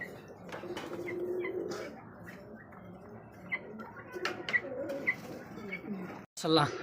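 Pigeons at a large wholesale pigeon sale coo softly in low, rolling calls against a busy background, with someone speaking over them and a few sharp clicks near the end.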